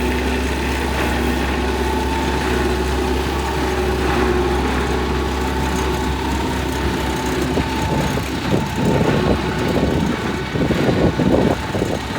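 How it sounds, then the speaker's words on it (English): A 6M tractor runs a mulcher in a 28-hectare farm field, producing a steady, loud, low engine drone with a rougher, rattling churn building toward the end. "we got the 6M on the mulcher today"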